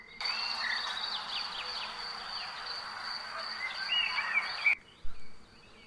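A steady, dense buzzing of many bees, both stinging honeybees and stingless meliponine bees, hums close and continuous for several seconds and then cuts off abruptly, with no one talking.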